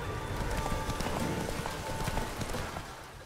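Horse hooves galloping in the video game The Witcher 3, a fast, steady clip-clop rhythm pounding close and loud throughout, with no speech over it.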